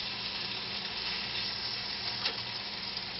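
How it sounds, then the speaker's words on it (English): Spam slices sear in a hot pan with a steady, close sizzle that holds even throughout, fairly quiet and with no talking. "let's go ahead and let's sear our spam a little bit. let's flip this piece of spam over."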